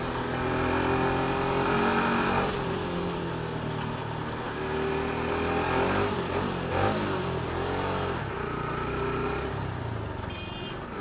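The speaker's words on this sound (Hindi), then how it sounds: "150 CC इंजन है तब भी साउंड काफ़ी लाउड आता है" A 150 cc motorcycle engine revs hard on an Indian street, a loud, gritty roar that rises and falls through repeated throttle blips, heard up close with background traffic noise.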